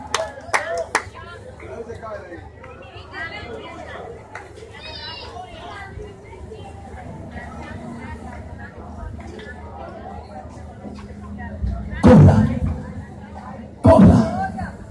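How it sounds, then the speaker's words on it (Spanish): A church congregation at an evangelical service in the Dominican Republic claps in two short, loud bursts near the end, following a preacher talking in Spanish over a hall with faint children's voices and chatter. "Otro aplauso, otra vida más para Cristo."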